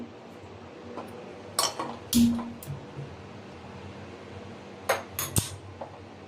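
Metal cookware clatters a few times, with one heavier clunk as a heavy thick-bottomed pot is set down on a stove; quiet room noise between.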